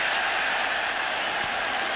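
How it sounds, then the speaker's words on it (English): A roaring stadium crowd at a USC versus Notre Dame football game cheers steadily throughout, a dense, loud wash of voices with no break. "You can hear the cheer go up here at the stadium"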